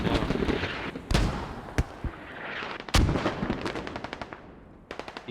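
Mortar and artillery fire in a Squad video game match, a volley of sharp booming blasts and cracks, some close and loud, with quicker popping bursts trailing off toward the end.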